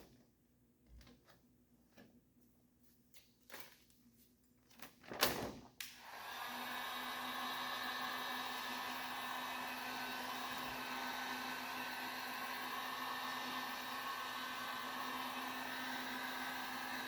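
Heat gun warming directional vinyl wrap: a few soft handling clunks and bumps, then the gun switches on and blows a steady, loud whirring hiss that continues unbroken to the end.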